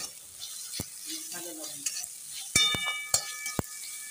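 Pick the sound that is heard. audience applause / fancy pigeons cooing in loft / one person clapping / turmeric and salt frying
turmeric and salt frying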